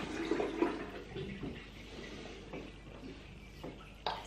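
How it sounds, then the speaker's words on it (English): Water from a bathroom tap running to warm up, a soft continuous splashing stream at low level with a few brief knocks and clatters, no talking. "we're gonna get the water to go warm now"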